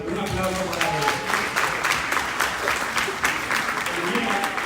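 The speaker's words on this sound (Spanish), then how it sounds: "Un aplauso para él." Audience applause at a talk on resilient communication and media use, a broad continuous patter of clapping from a crowd that holds steady throughout, with some voices mixed in.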